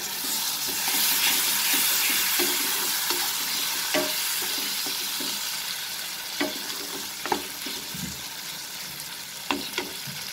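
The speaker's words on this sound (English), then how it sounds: "Mix it with the oil and the onion, and then add the tomatoes." Tomatoes frying in oil with onion for a chana dal and egg dish, a steady broadband sizzle with scattered clinks of a spoon stirring the pan, close and continuous throughout.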